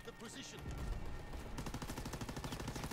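Rapid machine-gun fire from an MG81 in Call of Duty WW2 multiplayer, starting after a short pause and continuing as a steady rattling burst of closely spaced shots, loud and up front.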